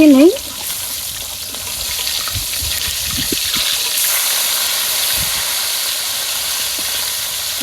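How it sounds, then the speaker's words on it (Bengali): Fish fries in a pan with a steady, bright sizzle and crackle that fills the scene, broken by a few soft scraping knocks as the pieces are turned. "একদম কড়া কড়া করে রাখবো মিষ্টি মাছ ভাজা হয়ে গেছে"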